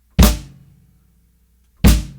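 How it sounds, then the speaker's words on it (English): Bass drum, snare and hi-hat strike together as a single combined note, heard twice, each a sharp, punchy hit with a short decaying tail, separated by silence. "It's the sound of a bass drum with a snare drum and a hi-hat all on top of each other."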